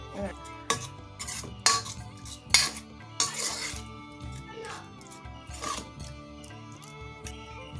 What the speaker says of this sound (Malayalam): അതിങ്ങനെ നന്നായിട്ട് നമുക്കിനി ഉടച്ചെടുക്കണം.